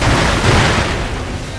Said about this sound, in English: use the firecracker to distract her